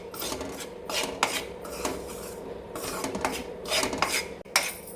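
A spatula stirs and scrapes flour being dry-fried in a pan for ridge gourd curry, giving close, steady metallic scraping and rubbing strokes with no voices.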